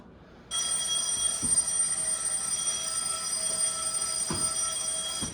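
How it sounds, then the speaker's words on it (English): A bright alarm clock ringing, a continuous rapid metallic bell trill that starts abruptly and keeps going, moderately loud with a couple of faint knocks underneath and no voices. "Make sure you play that noise, because there's many alarm clock noises"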